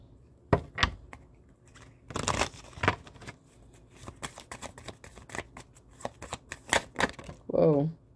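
A deck of oracle cards being shuffled up close, with repeated crisp riffling and slapping bursts spread across the clip, and a brief voice near the end.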